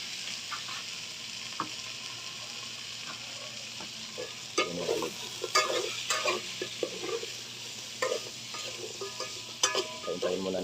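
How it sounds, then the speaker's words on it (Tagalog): Meat browns in a hot pan with garlic and onion, sizzling steadily while a utensil stirs and scrapes it in repeated bursts, close and moderately loud, with no talking. "Hintayin muna natin na mag brown yung karne bago natin lagyan ng sabaw"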